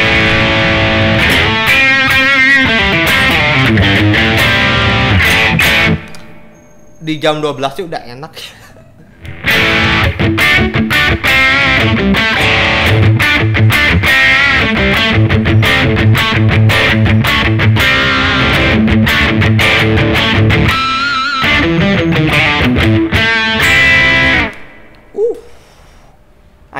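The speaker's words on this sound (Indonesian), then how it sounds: "Pedal drive sih, high gain, distorsi, bukan overdrive ini ya, distorsi" Electric guitar played through a Redevil high-gain distortion pedal by ALP Custom Pedal, its drive set around noon, gives a loud, dense, saturated tone in sustained riffs, broken by short pauses where someone talks.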